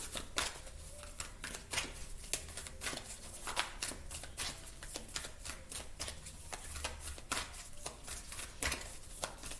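Tarot cards shuffled and drawn, rapid, crisp riffling and flicking of card stock in steady repeated bursts, close and fairly loud throughout, with no talking.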